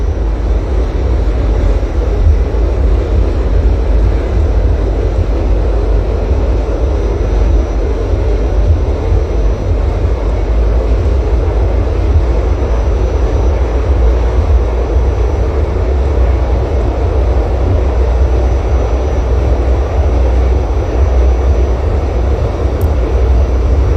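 A Staten Island Railway train runs in the OpenBVE train simulator game, giving a steady, loud, unbroken rumble of motor and wheel noise that holds throughout without pauses or voices.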